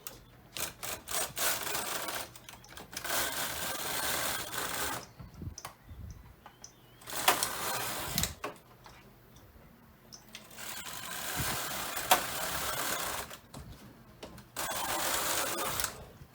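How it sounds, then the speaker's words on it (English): A knitting machine carriage slides back and forth to knit two rows, making a rhythmic rubbing, clattering rasp in several sweeps with brief quiet pauses between passes. "So I'm going to set the carriages to 1 and knit 2 rows."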